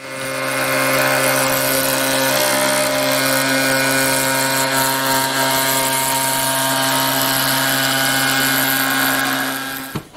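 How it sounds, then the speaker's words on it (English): A router trims excess Formica laminate from the edges of cabinet door and drawer pieces. Its loud, steady high-pitched whine runs continuously for about ten seconds with no talking. "I have to cut off the excess Formica from the edges. So I have to go with all the pieces that I did through the router."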